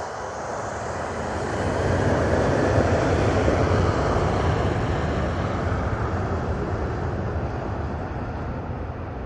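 A Jet2 airliner departing Manchester Airport, its engines a loud continuous roar that swells over the first couple of seconds and then holds steady, with no voices.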